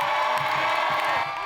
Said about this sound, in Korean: 시위 학생들이 환호합니다